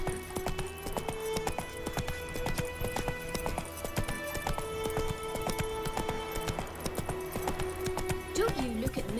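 Roach the horse gallops in The Witcher 3, hooves clip-clopping in a rapid, continuous rhythm close by, over game music with tonal notes and a brief whinny-like sound near the end.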